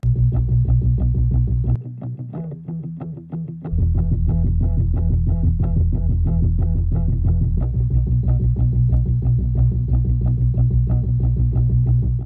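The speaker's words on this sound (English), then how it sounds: "I doubled it with a few different guitars, so it sounds like this." Layered distorted electric guitars chug in a fast, steady rhythm, briefly dropping in the low end before the full thick sound returns.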